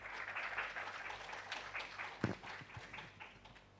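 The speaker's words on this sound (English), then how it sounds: "Maybe we can give an applause for Ms. Siritida." An audience claps after a presentation at a talk on fast payment implementation, a brief, faint patter of applause lasting a few seconds.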